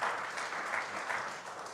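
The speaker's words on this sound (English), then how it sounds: "And also for our worship team, can we give them another clap too?" A church congregation applauds the worship team in a short burst of steady hand clapping, even and fairly distant, with no voices over it.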